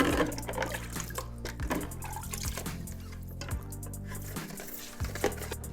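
Tap water runs steadily over a fermenter lid as it is rinsed and sanitized in a sink, a continuous splashing flow with a few louder knocks and shifts.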